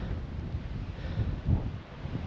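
Strong, gusting wind on Arthur's Seat in Edinburgh buffets the microphone with a continuous low rumble, swelling in a louder gust midway, with no voices.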